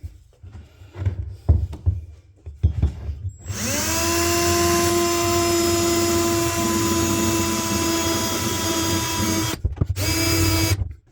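A power drill fitted with a metal-cutting bit grinds into a steel rear shock mount on a Gen 1 Raptor, a loud steady high whine lasting several seconds after a few handling knocks, ending with a couple of short bursts.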